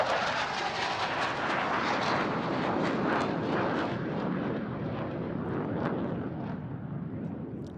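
Danish F-16AM fighter jet rolling slowly at an airshow, a loud continuous roaring jet engine that swells slightly and then begins to fade, heard from a distance in the open air and with no talk.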